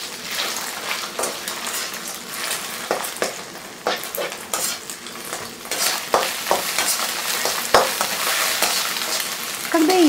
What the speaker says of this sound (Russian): выливаем в вок яйца и, помешивая, жарим яичницу